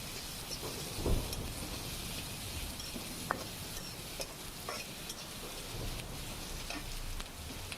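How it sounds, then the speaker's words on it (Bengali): Green chillies and onion sizzle in hot oil for a potato, pointed gourd and tengra fish curry, a quiet, steady frying hiss broken by a few soft scrapes and taps of stirring, with no voices. "তেলের ভিতর কাঁচামরিচ পেঁয়াজ দিয়েছি আমি নাড়াচাড়া করব"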